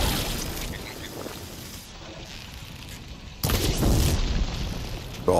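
Fire attacks set off explosions in the video game Horizon Forbidden West, with rumbling booms and crackling bursts. A louder blast surges midway and keeps roaring, and there is no speech.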